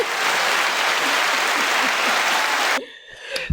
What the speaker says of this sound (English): That was the quickest round of applause ever. Do it again.